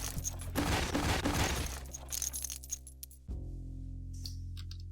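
Pistol shots fired at rats in the video game Pecaminosa, several sharp cracks close together over a steady low in-game background hum, then a quieter stretch with only the hum continuing.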